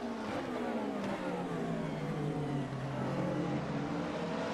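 McLaren and Ferrari GT race cars, including an older McLaren 670, battle at Misano, their engines droning loud and steady with harmonics sliding downward as they sweep past close by.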